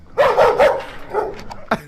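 A dog barks and yips at a drone, giving several sharp, close barks in quick succession followed by a short yelp.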